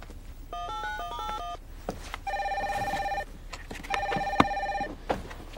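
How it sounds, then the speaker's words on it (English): A telephone in the 1997 film Menno's Mind rings three times with an electronic, melodic ringtone, each burst about a second long with short pauses between, with no voices. "Call Simon."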